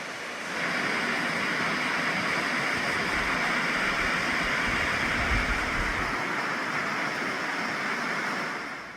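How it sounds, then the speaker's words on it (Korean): A broad, steady roar of rushing water fills the air, constant and even, like a large waterfall heard from some distance along a large volcanic valley. "멀리서 우렁찬 폭포 소리가 들리네요."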